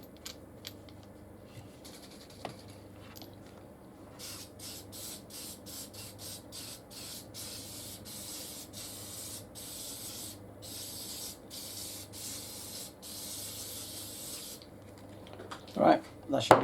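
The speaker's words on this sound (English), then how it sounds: "Right, that should be nicely lubed up. Like I said, don't spray it all over your bench." Case lubricant hisses from a spray can in a long series of short even bursts onto a batch of 6.5x47 rifle brass cases, followed by the rattle of the cases being shaken about.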